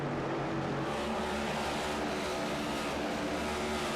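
Race car engines roar steadily in iRacing at the Milwaukee Mile, a dense continuous drone of several cars at speed with no pauses, loud and constant throughout.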